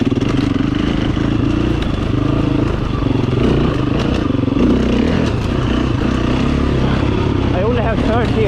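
An enduro motorcycle engine held steady in third gear while riding over slippery, moss-covered rocks, with a continuous close drone and some clatter, and someone talking over it.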